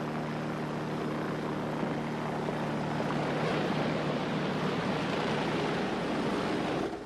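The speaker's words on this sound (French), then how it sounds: "L'hélicoptère a été rappelé par Kramer" Helicopter in an action film, a dense, steady rotor and engine roar with a constant low drone, loud and unbroken before cutting off at the end.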